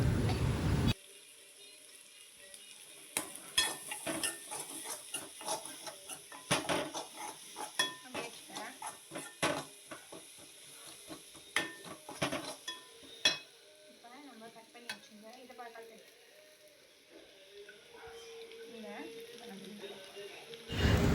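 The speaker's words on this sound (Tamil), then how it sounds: "முட்டை ஆட் பண்ணதும் அந்த தொக்கு அதோடையும் சேர்த்து நல்லா கிளறணும்." Egg and masala paste stirred together in a frying pan, soft sizzling beneath frequent clinks and scrapes of a spoon against the pan, close up, with occasional quiet speech.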